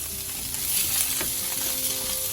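Paneer cubes and masala sizzle and fry steadily in a hot pan, a dense continuous crackle with light stirring scrapes, close and fairly loud, no voices.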